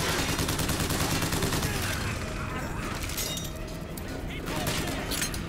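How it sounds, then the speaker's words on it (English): Dense, rapid gunfire from a weapon in the video game Bioshock Infinite runs continuously and loud throughout, with scattered impacts and a voice speaking over it. "That's a good gun, but it really just eats up the ammo."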